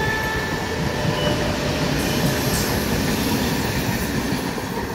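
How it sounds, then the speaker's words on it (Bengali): Down Bandel–Naihati local train rounding a curve toward Hooghly Ghat railway station, a steady loud rumble of wagons and wheels on rails with faint wheel squeal, close by and continuous throughout. "ট্রেনটি সুন্দরভাবে বাঁক নিয়ে হুগলিঘাট রেলওয়ে স্টেশনের দিকে যাচ্ছে"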